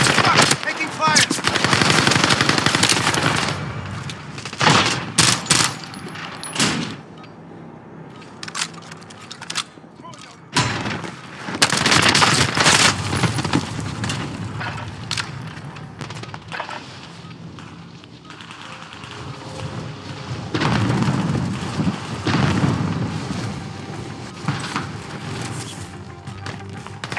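Dense gunfire and explosions from a war video game, played on an HP Pavilion gaming laptop, with loud bursts of automatic fire and blasts coming in waves, and short game voice prompts between them.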